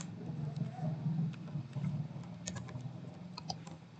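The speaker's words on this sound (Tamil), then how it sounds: "இப்போது இந்த டெர்மினலில் ஒரு பைத்தான் சிம்பிள் கமாண்டான பிரிண்ட் கமாண்டை நான் டைப் பண்ணுறேன்" Python print command being typed on a laptop keyboard at a Windows 11 terminal, a faint run of small key clicks and taps over a low steady background hum, with a few sharper clicks near the end.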